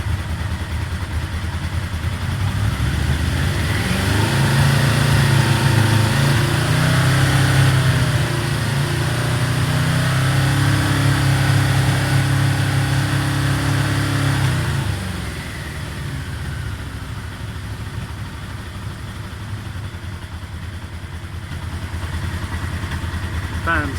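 A warm Yamaha Vmax motorcycle engine climbs from idle and holds a steady, loud drone near 4000 rpm for about twelve seconds, then drops back to a lower idle with a cooling fan running.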